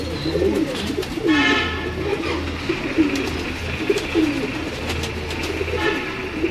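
Several pigeons keep up steady, close cooing on a Lahore rooftop loft, their rolling throaty calls layered over a low background hum.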